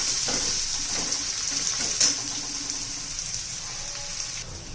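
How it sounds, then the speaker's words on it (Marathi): Finely chopped onion is stirred and sautéed in a pan for a vegetable curry of peas and spinach, giving a steady close sizzle and crackle broken by a few soft scraping stir sounds. "मस्त असा कच्चेपणा जाईपर्यंत कांदा परतून घ्यायचा आहे आपल्याला"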